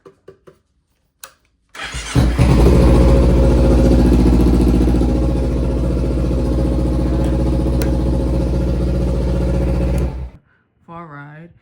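A motorcycle engine cranks and catches after a few clicks, then runs at a loud, steady idle close by for about eight seconds before shutting off, with a brief voice afterward.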